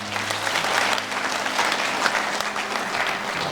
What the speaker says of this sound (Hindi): एक बार जोरदार तालियों से महामहिम जी का।